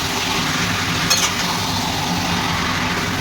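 Chicken pieces fry in oil in a pan for Maharani chicken, giving off a steady, close, even sizzling hiss with no talking.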